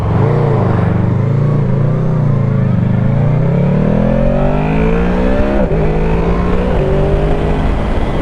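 Ducati 748 motorcycle engine revving while riding, a loud close V-twin climbing steadily through the revs with brief dips at gear changes, no talking over it.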